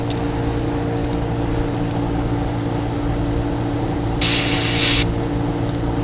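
Spray paint hissing through a stencil onto a fishing bait, a close, bright burst lasting under a second against a constant low mechanical hum from a compressor or booth fan.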